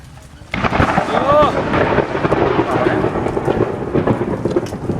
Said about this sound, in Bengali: বিদ্যুৎ চমকাচ্ছে দারুণ। যুদ্ধ হচ্ছে, যুদ্ধ। বৃষ্টি চলে এলো